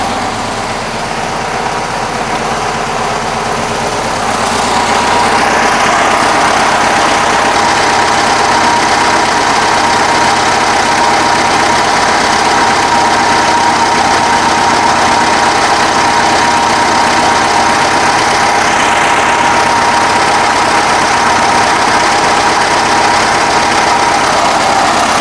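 1965 VW Bus air-cooled engine idling at low RPM around 950, a steady close-up rumbling drone that grows slightly louder after a few seconds and then holds even, with no talking.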